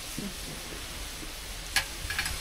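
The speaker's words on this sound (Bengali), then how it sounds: "পেঁয়াজ ভাজা হয়ে আসছে। এবার দিয়ে দেবো একটু সামান্য গরম মশলা।" Onions frying in a pan while whole spices such as bay leaf, cardamom, cinnamon, cloves and peppercorns go in. A steady soft sizzle runs throughout, with a couple of brief clinks near the end.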